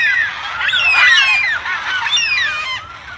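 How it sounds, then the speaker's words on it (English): A flock of Carnaby's black cockatoos in banksia woodland call loudly and close, overlapping wailing, rising and falling cries repeated over a few seconds. "This is the sound of Carnaby's black cockatoo,"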